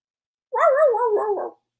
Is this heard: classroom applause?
no